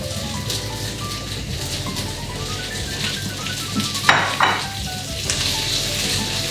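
Vegetables for pasta primavera sizzle steadily in a hot pan, a constant close frying crackle with a few louder bursts of spatter and stirring partway through, no voices.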